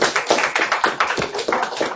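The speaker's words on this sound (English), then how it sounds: "you're clapping for Bill Gates" A small group clapping hands nearby, a rapid, uneven patter of sharp individual claps lasting about two seconds.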